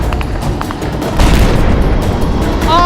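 A grenade blast in close combat during the defence of Avdiivka, a loud dense boom rolling under constant battlefield noise and scattered gunfire, with shouting nearby.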